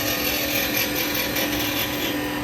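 A lathe gouge takes a peeling cut on spinning Laburnum wood while turning a small lidded box, a steady, close, continuous scraping hiss with no pauses.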